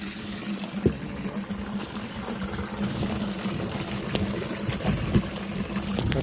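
Water pours steadily into a tank with a continuous gurgling rush and a low hum, occasional knocks breaking through.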